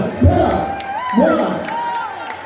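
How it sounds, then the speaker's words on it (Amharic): A crowd cheers and claps at the 20th Nations, Nationalities and Peoples celebration in Bahrain, with raised voices and high calls swelling in two waves over steady crowd noise, mixed with nearby talk. "ዋው ጭብጨባ አለ"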